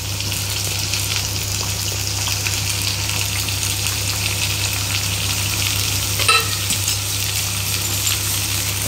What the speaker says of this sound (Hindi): थोड़ा सा बैंगन को फ्राई कर लेते हैं